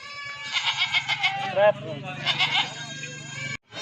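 A goat at a goat sale bleats in a series of wavering, pulsing cries close by, with someone talking underneath and a brief pause between the calls.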